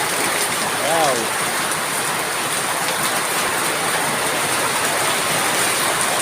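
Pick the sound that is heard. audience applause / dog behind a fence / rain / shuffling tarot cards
rain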